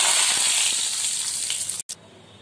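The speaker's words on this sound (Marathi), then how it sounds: "तेव्हाच आपल्याला घालायचा आहे त्याच्यामध्ये कढीपत्ता।" Curry leaves hit hot oil in a tempering with urad dal, giving a loud, steady close-up sizzle and hiss that cuts off abruptly near the end.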